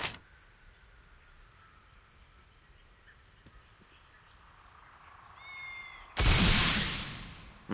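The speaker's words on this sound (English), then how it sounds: "Oh, look, a cat." A small cat meows in the fantasy game Baldur's Gate II over a quiet ambient hum, followed by a sudden loud burst of game sound near the end.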